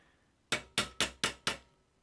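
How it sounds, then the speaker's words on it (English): Five quick, sharp hammer blows land close to a wheel hub on a Ford, evenly spaced and ringing briefly against a quiet background. "So it's going to take a little bit of hammering."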